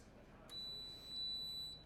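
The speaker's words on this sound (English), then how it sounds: "Timer's done." A kitchen-style timer beeps with a steady high electronic tone, sounding partway through and holding to the end, fairly clear over a low background hiss after golf club epoxy is dried in a workshop while a TaylorMade driver is built.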